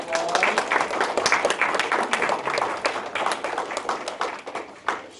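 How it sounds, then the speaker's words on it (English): An audience at Green Acres School applauds the donors of a STEM lab, a lively room of close, crisp hand claps that holds steady for about four seconds and then tapers off. "let's give everyone involved a big round of applause"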